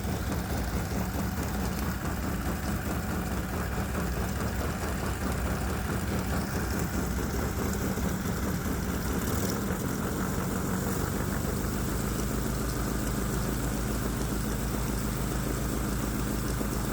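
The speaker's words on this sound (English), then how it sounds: "The engine started on the first pull, which it usually does." A 212 cc Predator small gasoline engine idles steadily up close, a constant buzzing rumble that shifts slightly in tone partway through.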